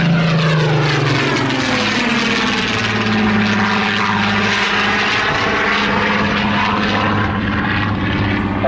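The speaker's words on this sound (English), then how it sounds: "Let's just hear that engine once again." A loud Spitfire PR XIX propeller engine drones steadily overhead at an airshow, its pitch sliding as the plane passes close by, with no voices.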